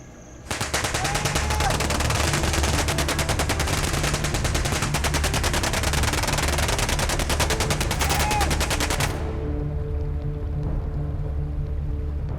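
Sustained automatic gunfire during an ambush on rangers guarding against ivory poachers, a dense, continuous rattle of rapid shots lasting about nine seconds before cutting off abruptly, leaving a quieter background.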